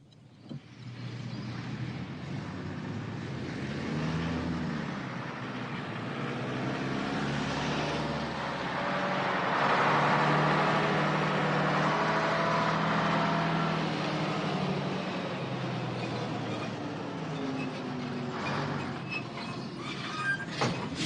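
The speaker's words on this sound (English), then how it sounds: "These heavy lorries are needed to transport the ammunition to the mobilization center where the unit loading takes place." Heavy lorries carrying ammunition roll past with a steady, broad engine rumble that swells louder toward the middle and then eases slightly, with no talk.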